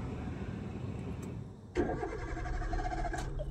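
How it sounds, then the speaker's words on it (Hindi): A car with an empty fuel tank sputters into life about halfway through after a stretch of low background rumble, then idles roughly and unevenly at close range. "पर गाड़ी स्टार्ट होके बंद हो रही है।"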